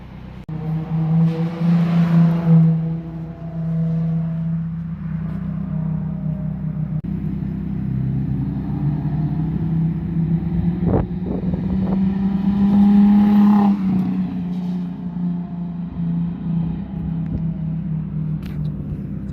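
Nissan 350Z driving after a CD009 transmission swap, a steady close engine drone with rising and falling revs, gear changes and wind buffeting, heard from inside the car with no talking.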